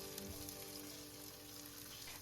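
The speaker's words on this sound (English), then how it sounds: "Spread the chicken out and let it pan fry briefly." Steady close-up sizzling and crackling of chicken pan frying in hot oil, continuous and fairly loud, with no voices.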